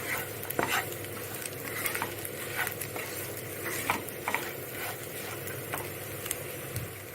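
Taro root fry with coconut powder stirred in a pan, soft continuous sizzling broken by repeated light scrapes and taps of the spatula at an uneven rhythm, fairly faint and with no voices.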